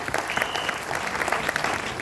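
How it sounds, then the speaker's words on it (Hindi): A brief burst of applause from a small group, steady dense clapping for about two seconds. "ताली हो जाए"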